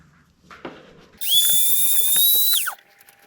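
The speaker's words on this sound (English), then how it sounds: "I'm going to just clean it up with the grinder part of the Dremel now." A Dremel rotary tool with a grinding attachment whines up to a high, steady pitch for about a second and a half while it grinds a burr off the threads of a 2004 Honda XR250R rear shock, then spins down, with faint handling clicks before it starts.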